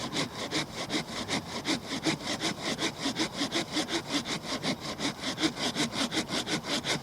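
A hand saw cuts through wood in quick, even back-and-forth strokes, a rhythmic rasping that repeats steadily throughout, close up with no talking.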